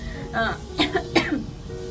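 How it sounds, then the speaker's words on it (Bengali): A dry, tickly cough from an adult indoors, two or three short close bursts spaced a few tenths of a second apart, with a breathy throat sound between them. "এখনো আমার কাশিটা কমেনি মানে একটা খুশখুশ কাশি"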